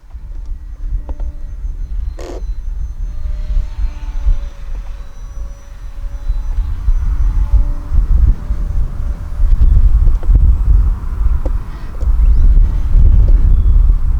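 Steady low rumbling wind buffets the microphone outdoors throughout, growing louder and gustier toward the end, with the faint motor whine of a HobbyZone Carbon Cub S2 RC plane in the background.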